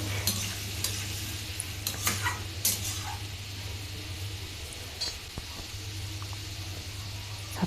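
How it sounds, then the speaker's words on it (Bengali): Potatoes and eggplant frying in oil in a pan while being stirred, a steady sizzle under scraping strokes and clattering bursts from the spoon, close and fairly loud, with a low hum beneath. "সব আলু বেগুনগুলোকে দিয়ে একটু ভালো করে নাড়াচাড়া করে নিচ্ছি"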